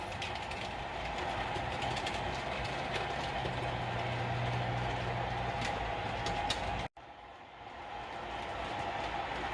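Sunset Limited passenger train rolling into the 6.3-mile Rawlins Pass Tunnel, a steady broadband rumble of wheels and cars that holds loud, drops out abruptly near the end, then returns more muffled.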